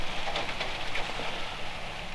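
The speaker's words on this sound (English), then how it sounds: "That's rain." Rain falls on a windy opening day of rifle season in the woods, a soft, steady hiss of drops pattering on surfaces throughout the short stretch.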